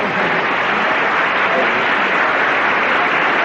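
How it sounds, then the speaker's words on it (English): A game show studio audience applauds in a dense, even roar of clapping that holds steady and loud for a few seconds with no break. "We got to give them some applause, too."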